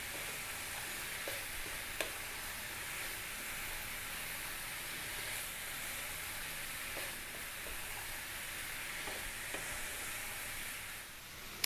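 Cooked brown lentils stirred and fried in a pan, a steady close sizzle and hiss running throughout with occasional sharp scrapes and clinks of the spoon against the pan.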